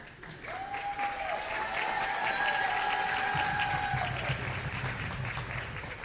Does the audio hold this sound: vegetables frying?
no